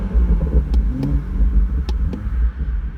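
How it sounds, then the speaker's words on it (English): A BMW M240i's engine rumbles and revs up in short bursts, its deep exhaust note loud and close throughout with no talking. "I think it's well worth hearing the exhaust note of this car, so I'm going to give it a little rev for you now."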